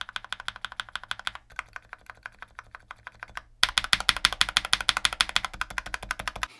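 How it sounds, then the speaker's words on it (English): Fast, crisp keystrokes clack on a mechanical keyboard in steady bursts, quieter at first, then louder and brighter after a short pause. "you put underneath the keycaps of your mechanical keyboard to soften and dampen the sound"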